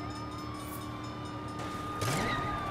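A train passing in the video game Saints Row (2022), with a sustained rumbling hum and a horn-like tone that swells into a louder rush near the end, heard alone.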